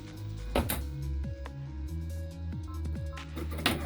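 An embroidery machine sewing a securing stitch through fabric for a zipper pouch key chain wallet, a close mechanical hum with repeated rhythmic clicks and thumps from the needle, no talk.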